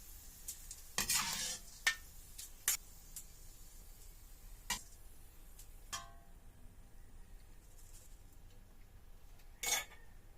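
Annatto seeds stirred in hot cooking oil in a pan, a faint steady sizzle under a few sharp scrapes and clinks of a utensil against the pan at irregular intervals.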